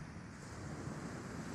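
Wind blows hard across the sea at the end of a pier on the UK coast, a faint, steady rushing roar mixed with the wash of surf and no break.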